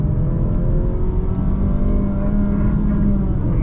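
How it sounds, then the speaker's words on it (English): A 2024 Mazda CX-30 with the 2.5 engine and a 6-speed automatic revs hard in third gear toward its rev limiter, a steady loud droning engine note heard from inside the cabin with no talk over it. "And we'll actually hit the rev limiter."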